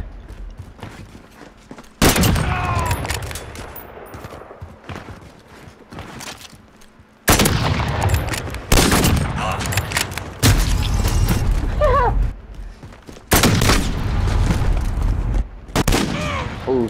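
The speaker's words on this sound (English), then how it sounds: "Precision airstrike" Heavy booms and crackling gunfire from a precision airstrike in the Modern Warfare video game, several loud broadband blasts arriving in bursts with brief quieter gaps between, under a busy game mix.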